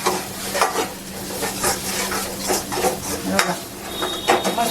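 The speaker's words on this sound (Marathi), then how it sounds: "बघा हिंग आता टाकायची हळदी आपली हळद अर्धा चमचा हळद मिक्स करून घ्यायचं छान" Asafoetida and half a spoon of turmeric are stirred into hot oil for kadhi, producing a gentle sizzle with repeated close scraping and clinking of a spoon against the pot.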